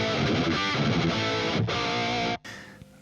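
A heavily distorted electric guitar riff, loud and driving with chugging rhythm, cutting off abruptly near the end into a brief noisy tail.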